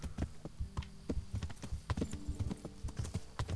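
Horse hooves clip-clop in a steady, quick rhythm while a rider travels on horseback through the medieval world of Kingdom Come: Deliverance, close and fairly loud over a low hum.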